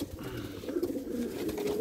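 Pigeons in a loft, including Belgian and Dutch racing breeds, give soft, repeated throaty coos, close by and overlapping, with faint background shuffling and no talk.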